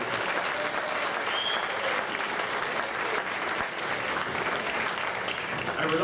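A hall audience at a Hall of Fame induction ceremony applauds the band playing for the dancing; dense, sustained clapping fills the room loudly from start to finish.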